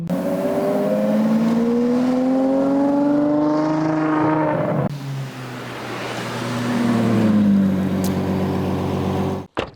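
A widebody Ferrari 812 GTS engine revs loudly and close, its pitch climbing through a long pull, dropping off, then building again into another loud rev before cutting out.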